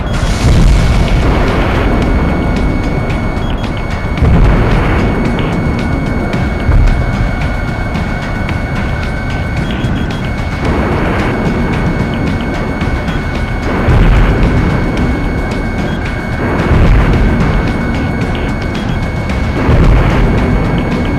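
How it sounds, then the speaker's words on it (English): Repeated heavy booms from a video game battle in Ace Combat X, as the Airborne Fortress's SWBM missile explodes, loud low rumbling blasts recurring every few seconds over a constant droning background with a steady high tone. "The Airborne Fortress's SWBM has gone up in flames."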